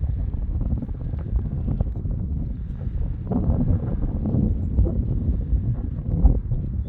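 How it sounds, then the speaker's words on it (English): Wind blowing across an outdoor pasture, buffeting the microphone as a steady low rumble with gusts that swell and fade, loud and constant throughout with no voices. "I'm trying to hold it still, but the wind is blowing"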